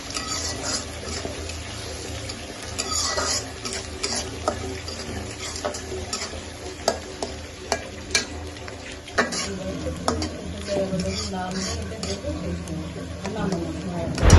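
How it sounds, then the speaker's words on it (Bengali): Onions fry in a pan for a brain fry recipe, a steady close sizzle broken by repeated scraping and clicking stirs of a spatula, while someone talks throughout. "এবার আমি পেঁয়াজটা ভালোভাবে ভেজে নেব"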